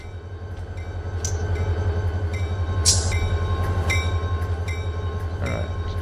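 Freight train just after brake release in the Run8 train simulator game, a loud steady low engine throb with rhythmic pulsing, metallic clanks and hissing bursts, no talking.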